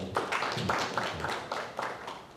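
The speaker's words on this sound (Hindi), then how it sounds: "तो श्रुति खातिन भी एक जोरदार ताली बजा दे।" Audience at a press conference clapping for an actress. A scattered round of handclaps rises quickly and tapers off toward the end.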